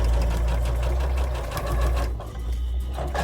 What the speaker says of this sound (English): And then sew down the side.